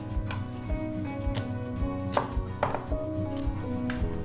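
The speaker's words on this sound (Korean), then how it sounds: "양파 갈 거라서 대충 썰어서 볼에다 담을 거예요" Onion roughly cut with a knife on a board for kkakdugi seasoning, a series of irregular sharp chops thudding against the wood, close and clear, with a low steady hum underneath.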